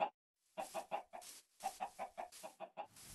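Blocky Minecraft chickens clucking near a coop, a quick run of short, closely spaced clucks in bursts after a brief silent pause, fairly faint.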